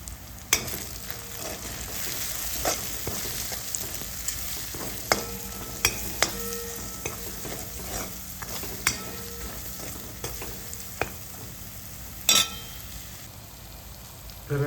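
A spoon stirs a tomato and spice mixture in a pan for a river mussel dish, with irregular sharp clacks against the metal over a constant close sizzle, no speech.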